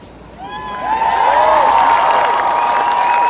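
A 10,000-strong crowd at a rally in Australia cheers and whoops, the noise rising after a moment into a sustained, loud roar with whistles and shouts carrying through it.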